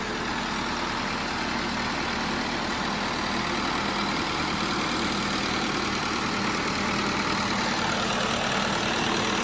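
An HMT 5911 tractor engine runs in second low gear, a loud, steady diesel drone close by with no pauses and no voices.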